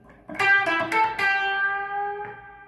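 An electric guitar plays a few quick picked notes from a solo, ending on a half step bend that rings out and sustains, clear and alone.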